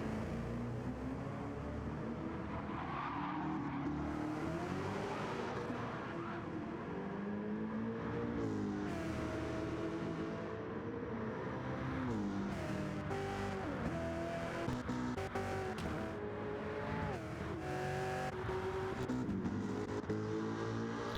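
GT race cars in a TA2-class video game race at Mount Panorama roar continuously, engines rising and falling through gear changes as several cars run close together, loud and near throughout with no talking.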